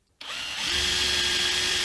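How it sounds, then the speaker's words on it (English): A power drill bores into wood while building a guitar pedal, starting abruptly after a brief silence and settling into a loud, steady whine that climbs slightly as the bit bites, close up and alone. "So now I'm going to drill here."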